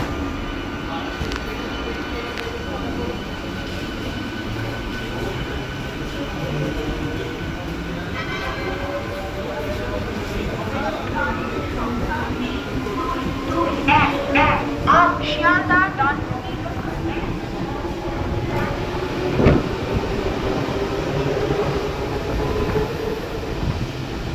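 A Sealdah local train rumbles and hums at Bidhannagar station in Kolkata, with a steady rolling roar, a few tonal whines and a sharp clank, while people talk throughout.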